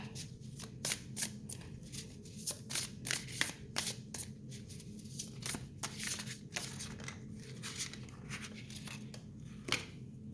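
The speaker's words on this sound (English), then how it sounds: "I'm just going to shuffle and just pick." Cards being shuffled repeatedly, a quick flurry of crisp riffling flaps and snaps, close and fairly quiet, with no voices.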